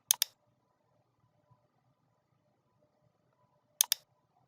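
Computer mouse double-click heard twice, two quick sharp clicks near the start and another crisp pair near the end, in an otherwise quiet room.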